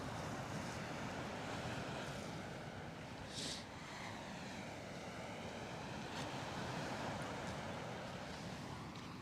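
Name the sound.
ocean waves at Coney Island beach in winter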